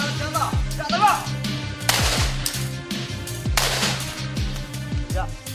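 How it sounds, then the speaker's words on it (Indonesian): Police gunfire during an arrest in East Java, a series of sharp loud shots spread across a few seconds, mixed with music and a news presenter's voice. "petugas terpaksa melepaskan tembakan"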